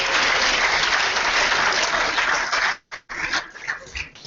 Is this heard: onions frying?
no